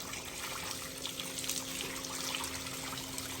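Cold water trickles and pours steadily as an animal is bathed, a continuous close splashing stream with no pauses and no talk over it.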